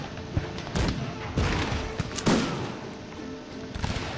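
Musket volleys from the video game Cossacks 3, with French King's Musketeers firing: several sharp, crackling gunshot bursts spaced irregularly over a few seconds amid busy battle noise.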